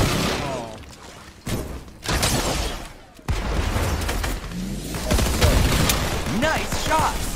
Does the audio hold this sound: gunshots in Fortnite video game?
yes